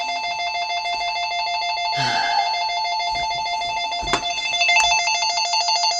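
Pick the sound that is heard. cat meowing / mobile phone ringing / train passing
mobile phone ringing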